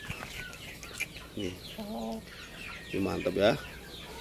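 An Aseel chicken, a parrot-beak longtail, gives a few short clucks and a drawn-out cackle close by, with a brief spoken remark in the background.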